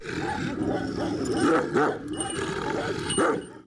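A Kangal shepherd dog from Sivas, Turkey, barks and growls in a few loud, close bursts, with rough throaty tones and some whimpering under a news report's background.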